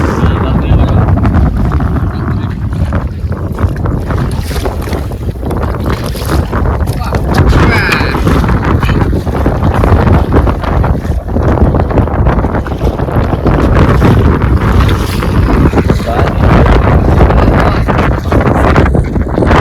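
Strong wind over a river in the Sundarbans, heard from a fishing boat: loud, constant roaring gusts buffet the microphone with the low rumble of the boat beneath.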